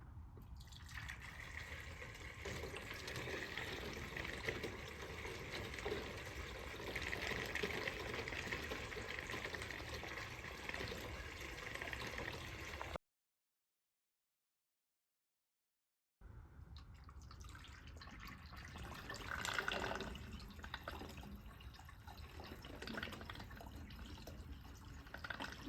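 Water flowing through a Venturi flume and weir, a faint, steady trickling and rushing of liquid that stops abruptly midway, then resumes with some splashing.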